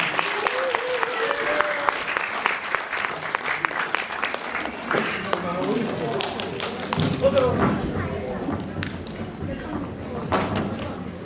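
An audience applauds performers of the Chakma Bizu bamboo dance at an event in South Korea, sustained dense clapping with scattered thumps and knocks and voices speaking over it.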